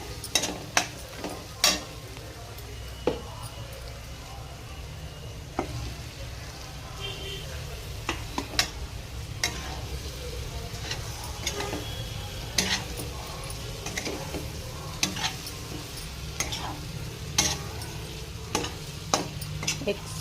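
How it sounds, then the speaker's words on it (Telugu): Eggs fry in a pan with a steady sizzle while a spoon repeatedly scrapes and taps against the pan in irregular clicks; a voice speaks occasionally in the background. "eggs fry"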